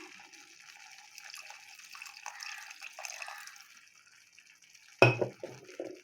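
Water is poured into a bitter gourd curry as it cooks, a faint trickling and splashing for several seconds, then a sharper clunk and brief liquid sounds near the end.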